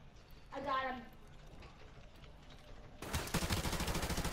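Rapid automatic gunfire rattles out in a sustained burst from a first-person shooter game, loud and close, following a brief stretch of player talk and quieter background game sounds.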